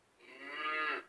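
A Fisher-Price bilingual learning toy table plays a single cow moo, a steady, rising electronic lowing about a second long, fairly loud and close with nothing else heard.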